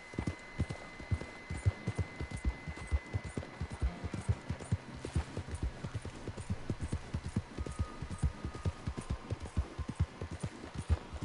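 Steady clip-clop of horse hooves trotting along in Red Dead Redemption 2, a continuous rhythmic beat of hoofbeats at moderate loudness with no one speaking.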